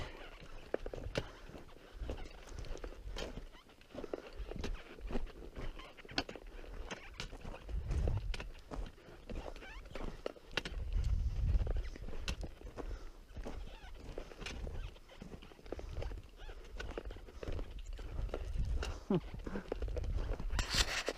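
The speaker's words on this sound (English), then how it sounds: "I hope the GoPro is picking up some of that hail fall." Pea-sized hail patters and clatters continuously all around, a dense irregular ticking with heavier low thumps, loud and close throughout.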